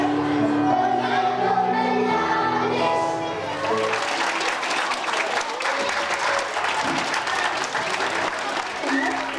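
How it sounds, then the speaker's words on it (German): Relatives and guests at a festival in a marquee give loud, sustained applause. The clapping swells and stays dense throughout, with crowd noise underneath and some voices mixed in. "Gefolgt von lautem Beifall der Angehörigen und Gäste"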